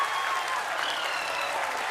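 ISRO scientists applauding a milestone moment, a sustained, even wash of many hands clapping together, fairly loud with no voices standing out.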